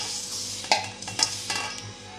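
A spice mixture for havijiyo rotlo is stirred in a bowl, giving soft scraping swirls broken by a few sharp clinks and taps of the utensil against the container, close and fairly quiet.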